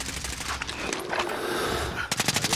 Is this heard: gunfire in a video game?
yes